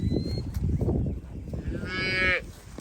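Large cows on a farm let out a single long, loud moo near the end, rising and holding before tailing off, over rustling farmyard background noise.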